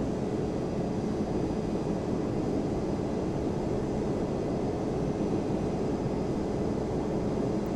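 A Boeing 767-300 taxis on the ground in Flight Simulator X with a constant low jet engine hum and a faint whine on top, steady in level throughout with no voices.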